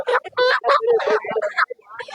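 Several native chickens cluck and squawk in a busy, overlapping flurry, close by, with no clear pauses between calls, at the Ayyalur goat market in Dindigul, India.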